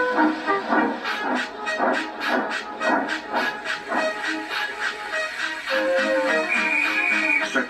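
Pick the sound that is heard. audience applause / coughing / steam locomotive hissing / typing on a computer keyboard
steam locomotive hissing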